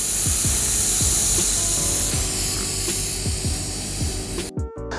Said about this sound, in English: let's stick this little Allen wrench in here and get rid of all that air